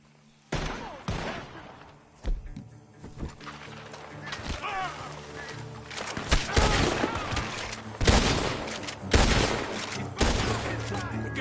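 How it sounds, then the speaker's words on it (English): Gunfire in the open-world western game Red Dead Redemption 2, with sharp shots ringing out in irregular bursts and volleys from a barn, loud and close, over game music and ambience with brief character voices. "The gunshots are coming from that barn!"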